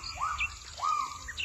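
Birds calling amid a noisy squabble between a crow and a drongo in a melinjo garden, with two rising chirps and a few thin high notes over a steady low hum, no voices.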